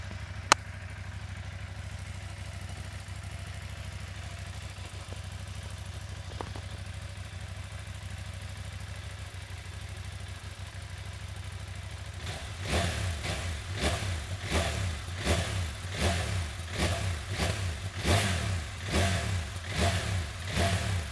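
A motorcycle engine with its original exhaust idles steadily, then is revved repeatedly in sharp bursts, each rev rising and dropping in a rapid rhythm, close and loud.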